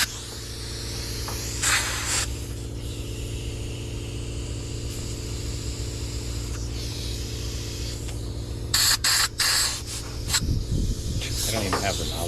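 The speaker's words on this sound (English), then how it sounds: "got myself an air hose" Compressed air hisses from an air hose in a shop, a few short blasts over a steady low hum, with someone speaking briefly in between.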